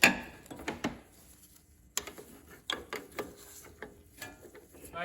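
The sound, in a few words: ratchet tightening Honda TRX350 starter clutch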